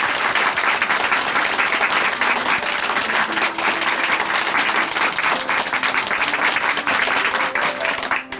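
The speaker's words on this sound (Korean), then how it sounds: "다시 한번 큰 박수 보내드릴게요" A church congregation gives a big round of applause, loud and sustained, with dense clapping from a crowd and faint organ or keyboard tones beneath, lasting throughout without a break.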